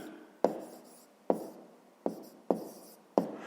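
Chalk or a marker taps and scratches on a board as math is written, five sharp strokes spaced unevenly, each fading quickly, close and quiet with no talking.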